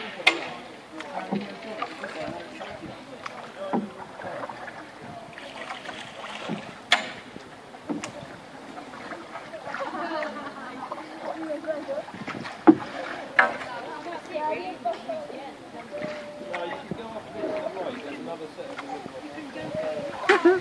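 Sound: rowing a boat with oars, paddle splashes

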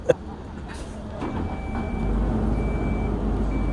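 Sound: bus arriving at a bus stop

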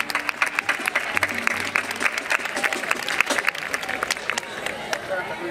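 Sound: crowd applause at carnival performance

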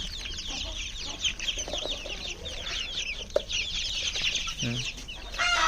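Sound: chickens clucking

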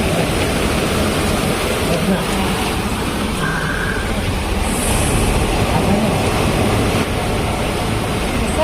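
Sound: heavy rain pouring

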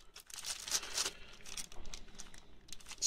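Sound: plastic bag crinkling

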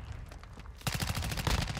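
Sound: gunfire in Modern Warfare 2 video game

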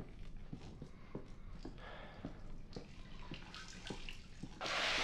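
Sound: automatic shower running water, video game

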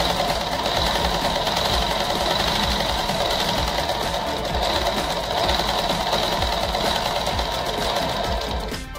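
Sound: sewing machine double-stitching a petticoat waistband

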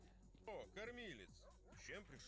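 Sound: dogs whimpering in a S.T.A.L.K.E.R. mod video game

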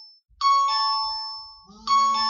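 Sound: phone ringtone, incoming call

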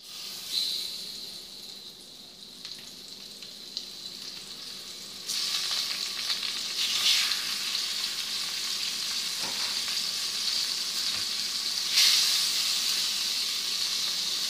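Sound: dourado fish cooking in a pan for moqueca

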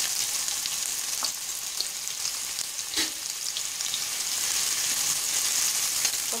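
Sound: onions frying in a pan with golden cumin

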